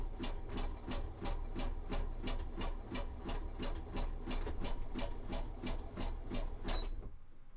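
A sewing machine stitches fabric for a costume build, a rapid, even run of close mechanical clicks and needle thumps repeating steadily for several seconds before stopping near the end.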